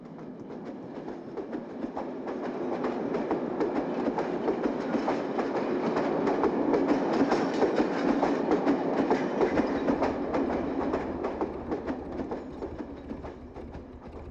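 A train rolls past at a steady, rumbling clatter, with wheels clacking on the rails. The sound swells and then eases off over about fourteen seconds, with no voices.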